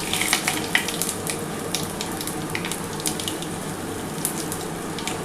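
Panch phoron and bay leaves sizzle in hot oil in a pan, a continuous close frying hiss with scattered sharp crackles and pops.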